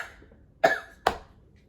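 Two sharp coughs in quick succession from a sick woman, close and fairly loud, against near silence.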